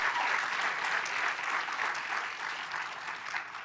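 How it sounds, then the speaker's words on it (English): An audience at a university lecture event claps steadily, dense sustained applause from a crowd at moderate distance, even and unbroken with no cheering or talk on top. "I want you to give Aetna applause if you would."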